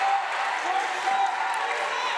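Basketball crowd at a women's world cup game between the Netherlands and Australia roars steadily with mixed applause and cheering, a dense, continuous wash of noise throughout.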